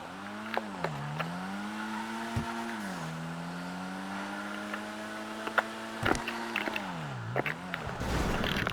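A car in GTA5 is pushed hot into a tight corner, its engine droning steadily and pitching up and down with the throttle. Short tire squeals and bumps break in near the end.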